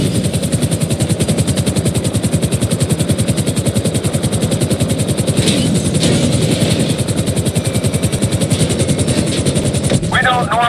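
A helicopter in GTA 5 hovers low and sets down onto a moving trailer, its rotor thumping in a fast, loud, continuous pulse close by, with a voice speaking over it and a short clatter near the end.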